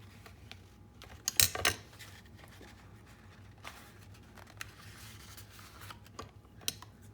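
Scissors trim the edge of a paper file-folder lapbook: a few soft, close snips and paper rustles, with one sharper cluster of cuts early on, against a quiet room.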